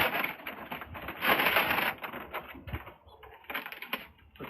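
Paper being crumpled and pushed into the centre of a Rocket Boil N Cook stove, crackling and rustling in irregular bursts close by, louder near the start and then fading into sporadic rustles.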